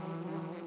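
A cartoon bee from Peppa Pig buzzes at a flower, a steady close insect drone with a nasal tone, holding level for a short moment with no talk over it.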